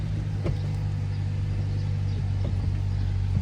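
A 2007 Toyota Tacoma two-wheel-drive pickup with a freshly replaced clutch pulls away, its engine a low, steady rumble close by and nearly unchanging, with no voices.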